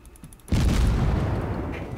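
A heavy cruiser's main gun fires in World of Warships, the Tier V premium cruiser Murmansk, a single loud booming blast that rolls on with a long rumbling tail after a quieter stretch of background.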